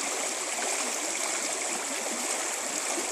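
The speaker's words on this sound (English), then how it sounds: "But I just wanted you to hear the beautiful sounds of the creek." Bubbling creek water flows steadily with a constant broadband rush and gurgle, close and even throughout, with no voices.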